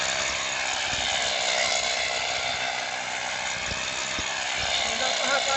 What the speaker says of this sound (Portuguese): Mostrando você furando no martelo.